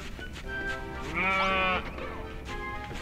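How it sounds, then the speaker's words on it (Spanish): A sheep bleats once in Dragon Quest Builders 2, a clear wavering cry rising and falling over soft game background sounds, with no voices. "Hay una oveja ahí."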